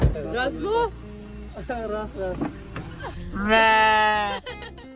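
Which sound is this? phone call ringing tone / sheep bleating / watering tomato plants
sheep bleating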